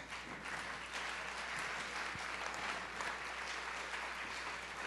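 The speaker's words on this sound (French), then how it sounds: "Une fois que tout le monde est bon, on va juste les applaudir" A church congregation applauding fathers during a Sunday service, even, continuous clapping heard from a distance in a large room, with no speech over it.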